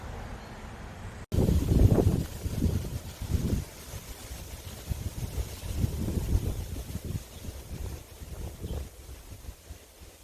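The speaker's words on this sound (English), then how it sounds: "And then it was super windy this morning. Here, I recorded some of it." Strong gusty wind buffets the microphone in heavy low rumbling bursts, surging and easing over several seconds.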